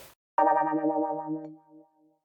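A single synth keyboard note wobbles with a fast vibrato-like warble, then decays over about a second.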